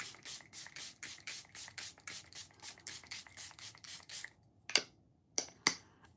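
Setting spray misted onto a face in a quick series of about a dozen short, close hissing bursts, then a pause and three sharper isolated sprays, with no talking.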